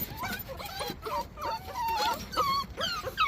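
Kennel dog whimpering and whining in a cold wooded setting, a series of short, high, wavering cries repeating close by, fairly faint, with no talk over them.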